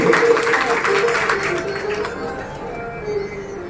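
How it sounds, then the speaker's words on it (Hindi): Applause from the audience at a Bhagwat Katha religious gathering, a dense wash of clapping that fills the first two seconds, then thins and fades under a low murmur. "एक बार हमारे प्रधान जी के लिए जोरदार तालियां से अभिनंदन करेंगे।"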